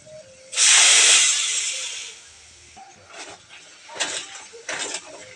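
Sweet potato pitha drops into hot oil with a sudden loud sizzling hiss that slowly fades, followed by smaller bursts of crackling fry sounds, close by with no talking.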